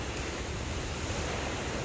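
Water running in a rainforest stream, a steady broad rushing wash with no distinct events or voices.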